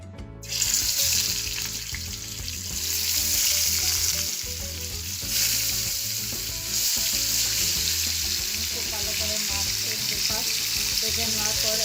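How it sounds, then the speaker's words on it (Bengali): Spice-coated koi fish fry in hot oil in a home kitchen, giving a loud, steady, close sizzle with small crackles that swell and ease throughout. "নিয়ে তারপর আমি এগুলোকে তেলের মধ্যে ভাজার জন্য দিয়ে দেবো।"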